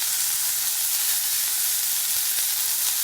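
Scallops searing in a hot pan give off a loud, dense, steady sizzle and hiss, close by and unbroken throughout, with no voices over it.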